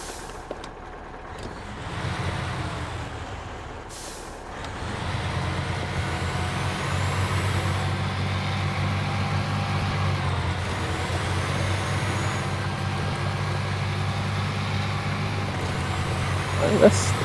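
A heavy truck drives in the off-road game Snowrunner, its engine a steady low rumbling drone that builds and holds for many seconds. A brief hiss sounds early on, and a voice talks over the engine.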